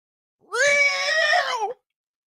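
A person's voice imitates a feral cat, giving one drawn-out, strained yowl with a wavering harmonic pitch. It lasts about a second and sounds close and loud, with no other talk.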